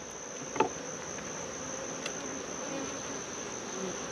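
Honey bees buzz around an open hive during a brood-frame inspection with no queen excluder in place, a steady insect drone with faint rustles and one brief louder tap near the start.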